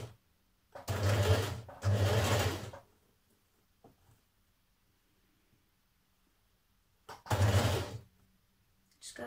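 Domestic sewing machine stitching a blouse hem around a curve, running in two close bursts of about a second each, then a long pause and a third short burst; near and alone, with no talk.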